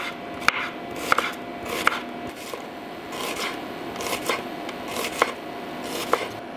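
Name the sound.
knife slicing onions into rings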